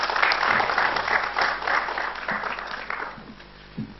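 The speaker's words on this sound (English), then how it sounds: "So guys, thank you. Big clap." An audience applauds after a panel talk on online marketing, a dense clapping burst that stays loud for about three seconds, then thins out and fades near the end.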